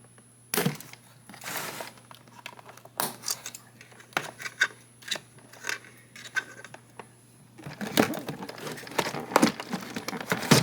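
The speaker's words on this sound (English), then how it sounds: "And now I'm gonna cut the wires holding Godzilla in place." Scissors snip the wires that hold a Jada Toys remote-control Godzilla toy to its cardboard packaging: a string of close, sharp cuts with plastic crinkling in between, getting busier near the end.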